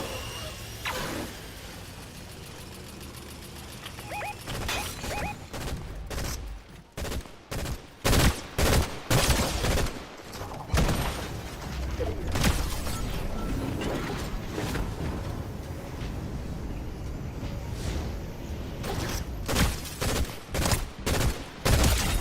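Video game gunfire arrives as repeated bursts and rapid volleys, loud and close, mixed with mechanical clanks and clatter, with lulls between the exchanges.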